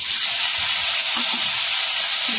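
Turmeric and spices fry for Pahari dum aloo in a hot pan, giving a loud, steady sizzle with bright hiss throughout and faint stirring scrapes underneath.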